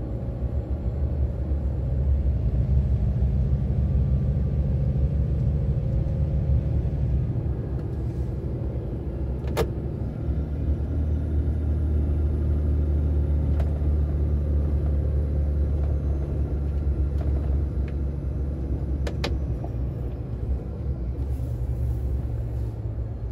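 An Iveco Stralis 460 truck cruises slowly across a highway bridge in traffic, its engine and road noise forming a steady low rumble heard from inside the cab, with a few faint clicks.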